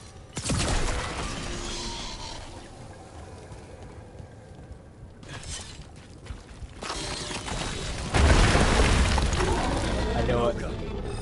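A ballista firing in the video game Dragon Age The Veilguard, heavy booming impacts and crashing debris in bursts, with a loud blast near the start and another rumbling crash later, with talk around them.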